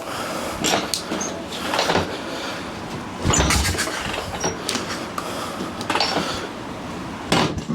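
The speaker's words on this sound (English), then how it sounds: "there goes that kicker gear. That's why I don't like side kicking these." A Harley-Davidson XLCH Sportster chopper with a Mikuni carburetor clanks and grinds as its side-kicked kick starter gear slips, giving several sharp metallic knocks and rattles close by, with no talking.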